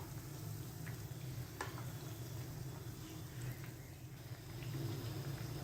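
Fish frying in oil over a medium flame, the second side now cooking, gives a steady, moderately loud crackling sizzle with soft bubbling that carries on evenly throughout, with no voices over it.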